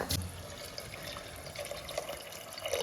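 Water is poured into a cooking pot during home cooking of dal makhani, a soft, uneven trickle and splash at close range, fairly quiet, with faint background sounds and no talking.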